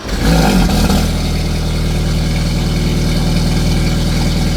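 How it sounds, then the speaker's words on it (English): A BMW 330e with an aftermarket valved back box exhaust idles steadily up close, a low, even rumble with a slight vibration running the whole time and a brief louder swell near the start. "even when you start the car, because sometimes while it's idling you can still hear like the little vibration"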